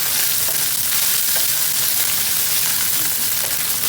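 Shredded chicken adobo flakes fry in hot oil until brown and crunchy, a loud, dense, continuous sizzle with crackling spatter and no pauses.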